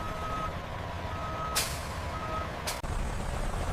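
Trucks work at a pasta factory warehouse loading bay: a reversing beeper sounds over a low diesel rumble, and two sharp air-brake hisses burst out a second apart.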